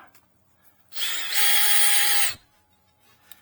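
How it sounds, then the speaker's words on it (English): A power tool whirs in one steady burst of about a second and a half as it backs a T30 screw out of the underbody panel of a Ford Escape, loud and close, with quiet workshop surroundings before and after. "But basically, you just start taking the screws out."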